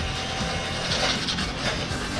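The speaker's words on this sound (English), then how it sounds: "I only have to do a light sanding because again I don't really mind if they're rough" Light sanding on the inside of brake discs during a rebuild, a continuous close scratchy rubbing with slight rhythmic variation throughout, no talk.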